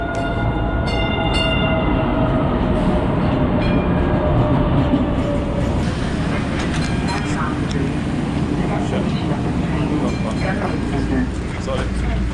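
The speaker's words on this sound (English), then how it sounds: "So we just got off the tram." Steady rumbling and clattering of a moving tram in Boston fills the clip, with squealing wheels early on and people talking over the noise.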